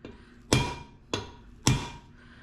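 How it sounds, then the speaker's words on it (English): Three sharp hammer blows strike a metal Dana 44 rear axle part on a Datsun 521 at uneven intervals, each a bright clang ringing out briefly before fading. "Trying to whack it down enough that the slide hammer will get on it."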